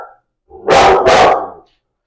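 A dog gives two quick, loud, close barks in a row indoors, short and sharp with a brief gap between them.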